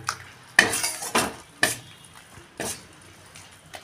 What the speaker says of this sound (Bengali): ভালো করে নেড়ে নিচ্ছি। এটা একটুখানি কষিয়ে নেব।